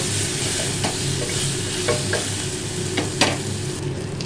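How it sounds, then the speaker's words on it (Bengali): Chutney ingredients with salt, turmeric and garam masala frying in a pan, a continuous close sizzle broken by a few scraping stirs of the spatula. "আরও দু চারবার নেড়ে দেব"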